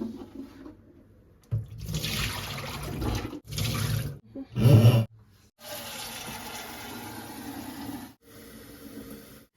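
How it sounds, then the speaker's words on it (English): Water drains from a reverse osmosis filter tank into a container in several separate gushing bursts, splashy and close, with brief pauses between them. "we are going to let the water out"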